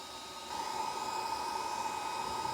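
A Vevor 1500W induction heater with its coil over a rusty bolt, a steady electronic whine and hum that jumps louder as the trigger is pulled and then holds constant, close and without talk.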